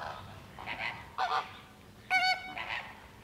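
Flamingos at the Schönbrunn Zoo enclosure in Vienna give a few short, goose-like honking calls, faint and spaced apart over quiet background.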